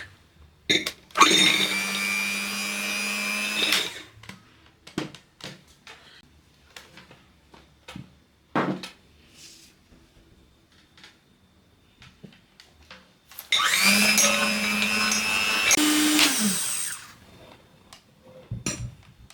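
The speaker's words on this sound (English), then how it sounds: "we'll start by beating our egg whites until stiff peak" An electric mixer whips egg whites to stiff peaks for Zimtsterne, German Christmas cinnamon star cookies, running loudly in two steady whirring stretches of a few seconds each, with scattered clinks and clatter between them.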